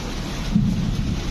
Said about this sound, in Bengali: প্রচন্ড মেঘ ডাকছে।